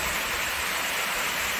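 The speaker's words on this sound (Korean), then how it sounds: "이곳에 송추 폭포도 굉장히 유명하답니다." Songchu waterfall in Korea pours in a steady, dense rush of falling water, a continuous hiss with no pauses, heard alone at close range.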